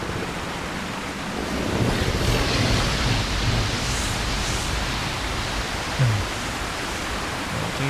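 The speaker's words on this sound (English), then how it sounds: "the water is always supremely loud" Loud rushing water fills the scene in the online game LOTRO, a constant broadband roar like a waterfall or torrent that swells slightly and holds steady throughout.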